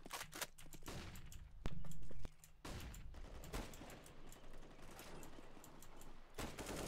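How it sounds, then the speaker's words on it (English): Bursts of gunfire and flashbang blasts from a Counter-Strike: Global Offensive match, sharp cracks scattered across the stretch with one loud sustained burst in the middle, heard alone without talk. "Throwing flashbang."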